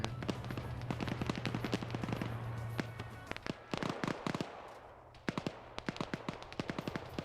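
Pike grenade rounds and grenade launcher fire exploding in a PvP video game match, rapid sharp bursts and pops in quick clusters, moderately distant and fairly quiet, with no talk.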